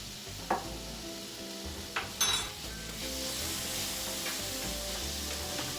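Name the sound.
sautéing minced garlic in a pan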